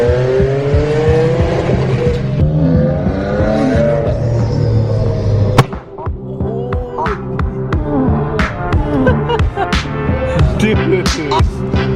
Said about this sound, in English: Alright, so I guess Joseph got a crazy tune on his car and I want to record it.